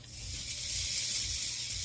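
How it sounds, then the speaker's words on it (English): Grated coconut dry roasting in a pan: a faint, steady soft hiss and light crackle with low rustling underneath, no voices. "Now let's roast that coconut."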